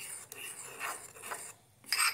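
A spoon scrapes and rasps around the inside of a mug, mixing vanilla mug cake batter in soft, uneven strokes, close by, with a brighter scrape at the end and no voices.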